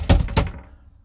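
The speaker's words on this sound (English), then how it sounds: "I'm gonna close the door behind me." A campervan door, on a 2021 six-metre Burstner Eliseo, is pulled shut from inside, giving two close, solid thunks in quick succession that die away fast in a small enclosed space.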